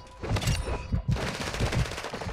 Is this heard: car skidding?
no